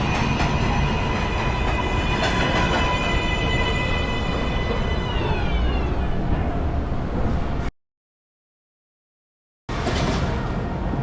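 An automated IRT 7 local subway train rumbles loudly with wheel squeal and rising tones as it runs, then drops to silence for about two seconds before the rumble resumes.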